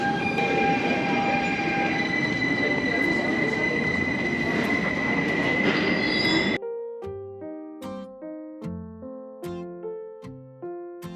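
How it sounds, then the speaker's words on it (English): The Bernina Express rumbles steadily at Chur station in Switzerland, a loud rolling roar with a faint high squeal, then cuts to a clear sequence of ringing chime tones, each struck note decaying before the next. "awaiting yet another iconic train here in Switzerland. It is the Bernina Express."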